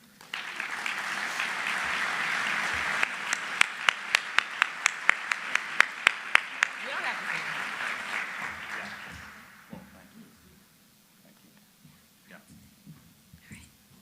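Sustained audience applause welcoming Dr. Doug Evans as he receives a Distinguished Service Award at a presidential address, a dense roomful of clapping with a few sharp individual claps, then fading into near quiet with scattered faint sounds.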